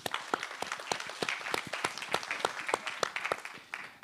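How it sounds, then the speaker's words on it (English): A large audience bursts into sustained applause for a speaker being called on stage at a fintech recruiting livestream, the dense clapping steady and close for several seconds with no talking over it. "A big round of applause, please."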